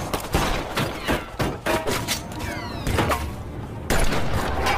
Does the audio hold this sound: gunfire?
yes